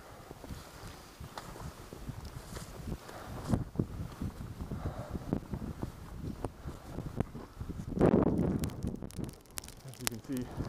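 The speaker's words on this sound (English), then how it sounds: "Perhaps we can find somewhere to get out of this wind." Strong blizzard wind on a high mountain ridge during an ascent of the Forcletta, roaring and buffeting the microphone steadily, with a heavy gust near the end and people talking through it.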